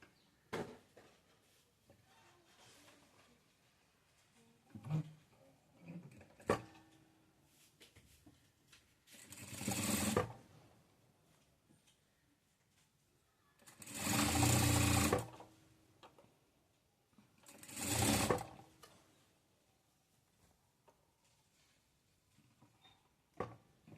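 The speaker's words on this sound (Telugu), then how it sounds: "ఇలా 2 హ్యాండ్స్ కుట్టేసుకున్నాక" A sewing machine stitches blouse sleeves in three loud, whirring bursts of a few seconds each. Quiet handling clicks and rustles fall between the runs, and no voice is heard.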